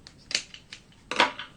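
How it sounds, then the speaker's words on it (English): Scissors snip off the excess length of a zipper while a crossbody bag is being sewn, giving several crisp, close cuts in two clusters with no talk. "and cut off the excess zipper"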